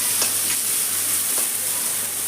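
Spiced tomato, Kashmiri red chili powder and chopped coriander leaves fry in ghee for a chicken curry, giving a steady, close hiss of sizzling with a few soft stirring scrapes.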